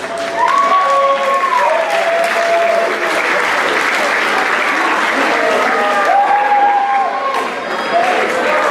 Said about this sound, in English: Can we have all of our designers come onto the stage one more time for a round of applause?